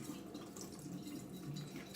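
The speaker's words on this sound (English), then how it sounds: "you're gonna strain all of the water out of it." Water strained from canned chicken breast chunks trickles and splashes steadily and faintly into a sink for a couple of seconds.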